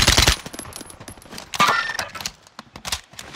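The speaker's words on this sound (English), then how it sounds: "I'm getting sniped from hostile somewhere." Gunfire from a Call of Duty: Warzone match, with a loud burst of sharp shots at the start and again near the middle, followed by scattered quieter cracks and impacts.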